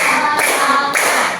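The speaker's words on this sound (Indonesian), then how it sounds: "Tepuk 1, tepuk 2," Hands clap in a counting ice-breaking game in a classroom: a few sharp claps, close and clear, spaced about half a second apart.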